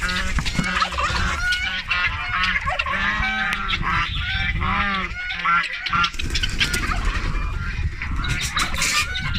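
Turkeys and other poultry cluck and gobble continuously nearby, a busy mix of overlapping bird calls from a flock with rustling in the background.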